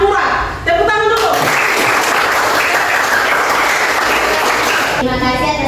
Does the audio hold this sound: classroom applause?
yes